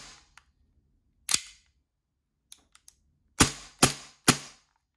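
An Atomic Armory 1911 gel blaster fires with its blowback action, giving sharp, close, snappy cracks: one early shot, a few faint clicks, then three loud shots in quick succession against near silence.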